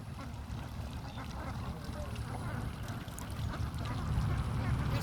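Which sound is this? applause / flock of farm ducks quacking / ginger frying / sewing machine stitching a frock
flock of farm ducks quacking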